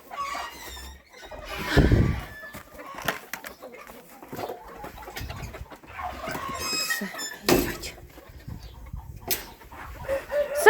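Hungry backyard chickens clucking and squawking in a coop while eggs are gathered, with several close, busy calls and scattered wing flaps and rustling throughout.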